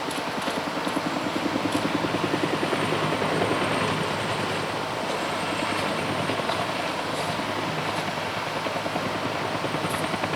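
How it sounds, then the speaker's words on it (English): A helicopter flies in the video game Avatar Frontiers of Pandora, a steady, loud rotor drone with a rapid chopping pulse that holds without a break and has no talk over it. "How did the helicopter go? Did it drop off people for me to fight?"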